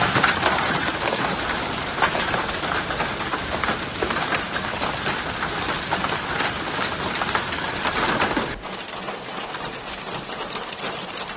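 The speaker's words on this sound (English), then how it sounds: "Torrential rain and thunderstorm across much of England" Torrential rain during a thunderstorm in England, a loud, dense hiss of pouring rain that holds steady and then abruptly drops to a softer, more distant downpour.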